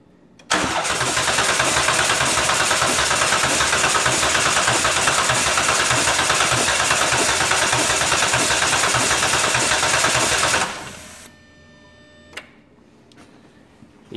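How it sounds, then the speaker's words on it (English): A Dodge Grand Caravan 3.3 V6 with a sticking fuel injector cranks and fires, then runs loudly and steadily for about ten seconds before shutting off abruptly, leaving faint ticking. "I'm going to go and crank over the engine so it fires off the fuel injectors"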